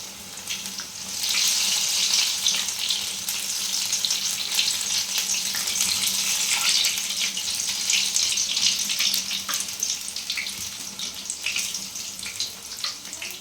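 Spinach fritters (palong shaak beguni) fry in a pan in a loud, continuous hiss and crackle that rises after a quiet first second and holds steady, with small pops scattered throughout and no voices.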